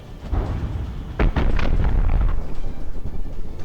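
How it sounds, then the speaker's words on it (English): A big explosion in a naval battle video game, a deep booming blast that hits suddenly and then rumbles on loudly with crackling debris for a few seconds. "Another big explosion."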